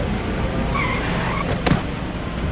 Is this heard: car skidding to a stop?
yes